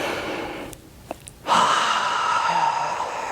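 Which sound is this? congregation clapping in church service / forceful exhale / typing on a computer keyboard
forceful exhale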